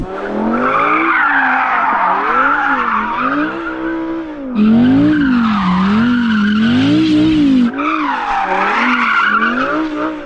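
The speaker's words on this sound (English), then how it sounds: "Why don't you go and warm up your tyres now?" Car tyres squeal in long wavering screeches while being warmed up before a drag race between an Audi R8 and a Porsche Cayenne GT, loud and close with the pitch rising and falling in repeated sweeps.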